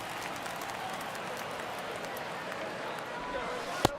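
Stadium crowd noise in the baseball video game MLB The Show 22, a steady wash of cheering and applause at moderate level throughout, with one brief sharp knock near the end.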